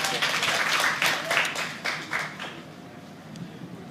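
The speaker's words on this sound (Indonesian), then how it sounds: "Tepuk tangannya beri untuk Mas Natali Ardianto" Audience applause at a startup meetup in Indonesia, a burst of clapping that fades over a few seconds, with a voice speaking faintly underneath.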